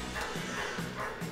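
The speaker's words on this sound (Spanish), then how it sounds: "perdón por el perro que se escucha detrás" A dog barks in the background, repeated low woofs at a steady pace, muffled and somewhat distant under a continuous hum.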